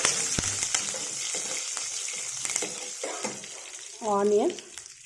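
Cumin seeds crackle and sizzle as they fry in hot oil for a cabbage and potato curry, a steady close hiss with scattered pops and a brief stirring clatter near the end.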